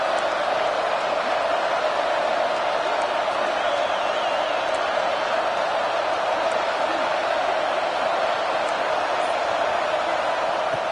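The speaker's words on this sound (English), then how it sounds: "And wow, listen to this crowd noise. This stadium is vibrating." Crowd noise fills a college football stadium as a dense, steady roar, loud and unbroken for about eleven seconds, with a few faint whoops rising from the wash.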